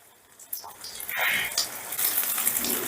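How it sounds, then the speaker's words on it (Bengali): Egg bhurji frying softly in a pan for mixed fried rice, a steady close sizzle with light stirring scrapes that builds and holds throughout, no talk over it. "আমি ভুজিটা তৈরি করে নিচ্ছি তবে কিন্তু বেশি কড়া করে ভাজবো না একটু নরম করেই ভাজবো"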